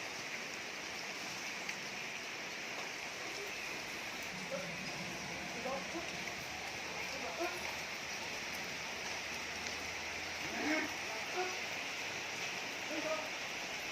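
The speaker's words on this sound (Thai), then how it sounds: "ฝนก็ตก" Steady rain falls in a rural Thai setting while the household pauses from sugarcane cutting, a constant hiss of drops with faint patters and low speech murmuring underneath.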